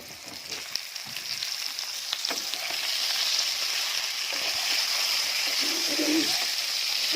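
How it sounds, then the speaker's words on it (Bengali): Eggplant pieces fry in mustard oil in a pan, a continuous close hissing sizzle with occasional scraping as they are stirred. "এবার বেগুনগুলো খুব ভালো করে এর সাথে ভালো করে মিশিয়ে নিয়ে ভাজবো।"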